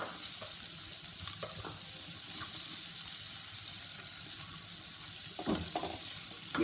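Steady broadband sizzle of chopped onions frying in hot oil for tomato soup, with a few soft clinks and stirring scrapes rising near the end; no voices.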